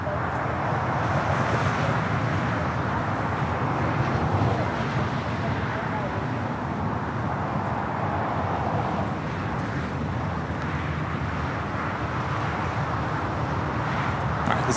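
A United airliner taking off from runway 25 right at LAX, a broad, steady jet roar heard from a distance over wind and traffic noise for the whole stretch, with radio chatter and people talking over it.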